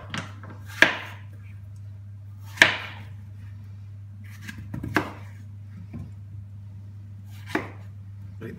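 A knife cuts peeled apples into quarters on a board for a tarte tatin, five crisp, separate chops spaced a second or two apart over a steady low hum.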